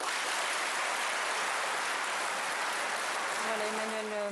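Dense, sustained applause fills the Moroccan Parliament for a French presidential address, a loud even patter throughout, with a voice starting near the end.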